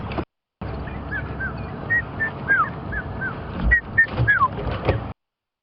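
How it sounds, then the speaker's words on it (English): A territorial wild bird on a sunset safari drive in Africa gives a series of clear whistled notes, some rising and some sliding down, at moderate distance over vehicle rumble and background noise. "that is the bird that we were looking at earlier that I was trying to imitate"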